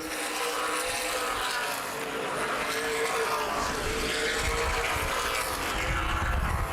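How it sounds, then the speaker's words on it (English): Stock race cars, including a Toyota Camry, race on the asphalt oval of Baer Field Speedway at a CRA Super Series event, a dense continuous engine roar that swells as cars pass. "Going back to 4th, the Welch and Wilson Motorsports Toyota Camry, car number 14 of Tyler Rohrig continues to battle"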